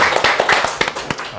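Scattered hand claps from a small group, a handful of sharp irregular slaps over a little more than a second, close and moderately loud, with no one speaking.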